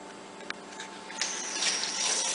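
Tap water runs steadily into a sink while a squirrel is shampooed for taxidermy, a close hiss that grows louder and brighter partway through, with a few small splashes.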